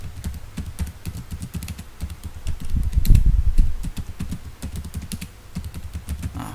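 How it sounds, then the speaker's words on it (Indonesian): Letters are typed on a computer keyboard in quick, irregular clusters of close, crisp key clicks, with a slightly heavier burst of strokes midway. "misalnya kita ketik A N I, Ani"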